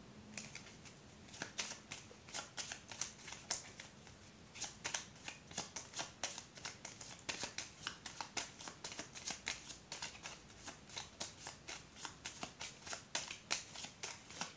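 A deck of playing cards is shuffled continuously in quick riffling bursts and soft flicks, close but fairly quiet, with a steady rapid rhythm throughout.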